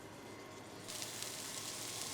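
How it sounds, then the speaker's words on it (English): Steady, bright sizzling hiss that grows louder partway through, like a filet mignon steak hitting hot oil in a pan, with no voices. "Want that nice and sizzling."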